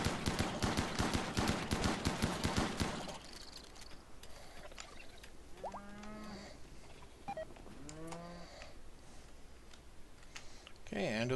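Shotguns in the video game RimWorld fire at giant bugs in a rapid, loud barrage for a few seconds. Low, drawn-out creature calls follow over a quieter background.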